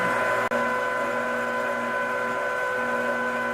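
An electric sausage stuffing machine pushing meat from its hopper hums with a steady motor whine, close and constant, with one brief dropout early on and no talk.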